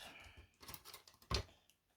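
A single crisp scissor snip stands out clearly amid soft rustling and handling noises, close and fairly loud.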